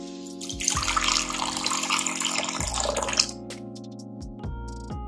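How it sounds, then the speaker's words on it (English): Hot water pours and splashes into a pot while tonkotsu ramen is cooked, a steady watery rush lasting a few seconds with background music running underneath. "Hot water."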